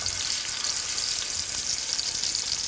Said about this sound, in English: I just want to sear it really quickly on each side.